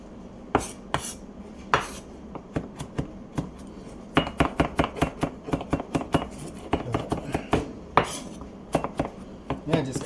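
A knife dices garlic on a board in quick, close bursts of sharp chopping taps, sometimes in fast runs and sometimes spaced out, with faint clinks between.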